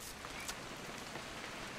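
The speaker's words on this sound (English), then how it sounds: "It's gonna rain the whole weekend," Rain falls in the video game What Remains of Edith Finch as a faint, steady, even hiss with no voices.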